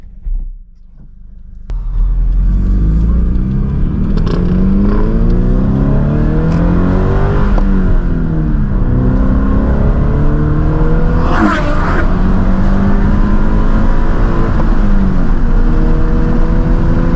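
A stock Toyota GT86 sports car with axle-back exhaust, heard from inside while driving: the engine pulls up through repeated rising revs and gear changes, loud and continuous, with road rumble beneath.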